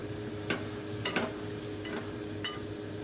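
Turmeric, mint and coriander leaves sautéing in hot oil for a chicken biryani, a steady soft sizzle with a few light clicks of a spoon against the pan.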